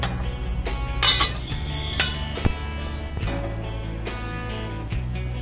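Sesame seeds are stirred quickly into caramelized sugar in a metal pan, close scraping and clinking of a spoon against the pan in irregular knocks, with a faint sizzle underneath.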